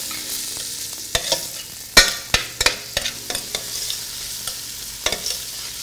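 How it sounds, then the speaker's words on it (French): Chicken pieces fry in a little oil while being stirred, a constant sizzle punctuated by loud irregular scrapes and clacks of a utensil against the pan, heard up close with no one talking. "On va les faire frire avec un peu d'huile"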